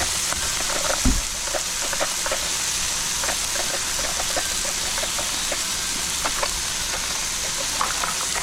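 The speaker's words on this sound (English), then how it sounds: "Hear that sizzle. That's what we're looking for." Pork chops fry in oil on a Blackstone campsite griddle, a steady bright hiss with scattered small pops and crackles and one low thump early on, no talk.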